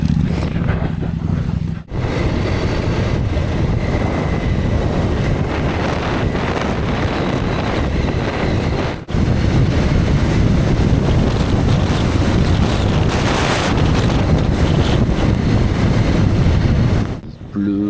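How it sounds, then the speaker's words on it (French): Strong wind with hail in Morocco roars and buffets the microphone nonstop, a loud broadband rush with water sloshing beneath and brief drops in the gusts. "il y a du vent de malade"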